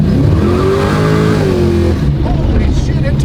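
A Dodge Dart roars under hard acceleration, engine tone climbing loud and close before dropping as the car steps out sideways, with tire noise and a voice underneath.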